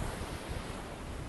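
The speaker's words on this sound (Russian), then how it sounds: "Океан, конечно, прекрасен." Steady, dense roar of ocean surf on a Dominican Republic beach, continuous and fairly even with wind buffeting the microphone and no talk.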